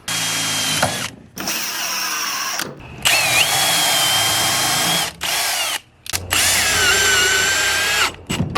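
Power drill driving coated decking screws into wood, several loud whirring runs with pitch rising and falling, broken by short pauses between screws, close and alone.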